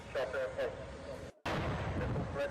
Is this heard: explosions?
yes